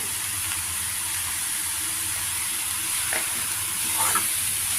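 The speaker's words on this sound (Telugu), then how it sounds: "అన్నీ మిక్స్ చేసుకుని ఇట్లా స్టవ్ మీద కాసేపు ఉంచుకోవాలి" Cluster beans cooking with coconut in a pan on the stove give a steady, soft sizzle, with a couple of faint stirring scrapes near the end and no talking.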